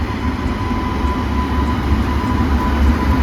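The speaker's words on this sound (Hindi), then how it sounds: "ये वाली लाइन ना, सिंगल जो इंजन है, इलेक्ट्रिक इंजन है, ये यहाँ से जा रहा है" A lone electric railway locomotive rolls steadily along the track while switching lines, giving a continuous loud rumble and rail noise with no voices over it.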